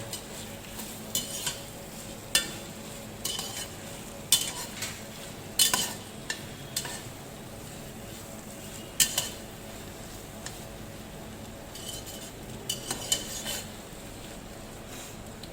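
Mashed potato for aloo bharta being stirred and mixed in a metal pan, with repeated clinks and scrapes of a spoon against the pan over soft background noise, no talk.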